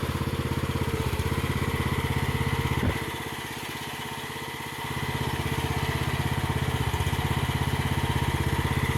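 Small AGT MX15R Chinese mini excavator engine chugs steadily up close while the machine moves dirt, its rhythmic drone dipping briefly in the middle before returning at full strength; no voices.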